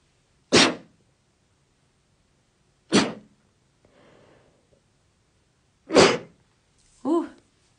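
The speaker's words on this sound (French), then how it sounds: "Je vais éternuer" A man sneezes three times at close range, each sneeze a sharp, loud burst a few seconds apart, followed by a shorter, softer fourth sneeze, with faint low sounds in the gaps.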